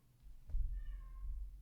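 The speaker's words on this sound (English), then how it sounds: "Sorry about the cat." A cat meows once, a short clear call rising and falling at close range over a low background rumble, with no one talking.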